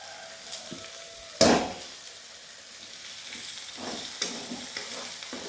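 Paneer and peas curry frying in a home kitchen pan as spices go in, with a sharp sizzling burst followed by a steady low crackle and occasional stirring scrapes.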